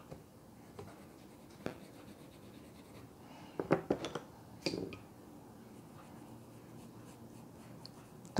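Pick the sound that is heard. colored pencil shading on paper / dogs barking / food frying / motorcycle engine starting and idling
colored pencil shading on paper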